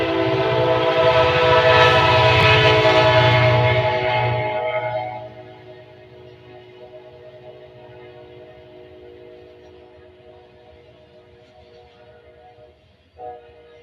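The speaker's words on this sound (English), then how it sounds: "The CPKC Railroad. barreling down the track heading east." CPKC freight train rolling eastbound, a loud horn blast sounding over heavy rumble for several seconds, then fading to a quieter steady rolling drone as it passes, with a brief knock near the end.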